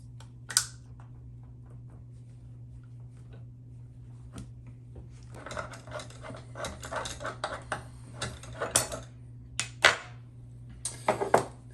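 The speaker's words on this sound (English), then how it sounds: "Now you have to remove the collar that's on all around the edge here, this silver part. And I'm going to do that with a pair of pliers." Pliers work the metal collar of a bathroom faucet, giving scattered clicks and scraping metallic rattles that grow busier toward the end, faint over a steady low hum, with no talking.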